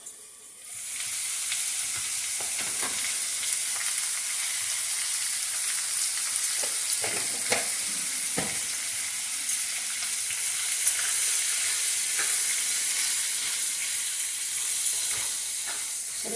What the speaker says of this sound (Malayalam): ഇപ്പം മാങ്ങ നല്ലോണം വഴന്ന് വന്നിട്ടുണ്ട്